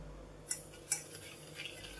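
Egg yolks are stirred with sugar in a bowl for a Charlotte cake, giving two faint, quick utensil taps against the side, then soft scraping over a quiet background.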